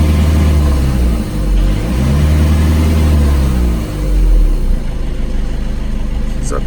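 Skoda Octavia engine, checked during heater core replacement work, rises in a steady rev as it accelerates, the low drone swelling and easing in waves while running loud and close throughout.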